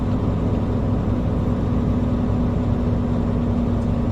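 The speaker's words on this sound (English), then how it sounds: "And we're going to high idle." A truck engine holds a steady high idle while its air brake system builds pressure, giving a constant loud, even drone with a strong low hum and no break in level.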